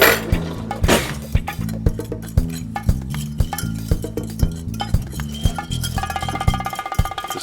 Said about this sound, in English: we're just going to stir this up real good